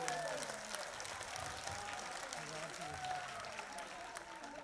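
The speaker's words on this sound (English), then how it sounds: "एक बार जोश के इस मंच पे जो जोश दिख रहा है उसके लिए एक बार जोरदार तालियां" Audience applause at a dance competition, a steady wash of clapping from a crowd that carries through the whole stretch, with voices and a host's speech faintly mixed in.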